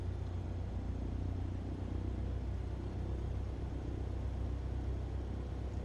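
An aircraft engine throttling up on the takeoff roll in Microsoft Flight Simulator 2020, a steady low rumbling drone that stays even and continuous throughout.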